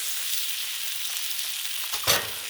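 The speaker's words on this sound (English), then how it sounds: "I want to get that sear all over" Tri tip searing on a Blackstone griddle, a steady close hiss of meat sizzling on the hot flat top, broken near the end by a brief louder flare of crackle.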